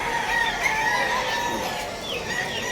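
Chickens cluck and squawk continuously at a busy pet market in Bulacan, several birds close by with overlapping calls and a crow over a steady crowd murmur.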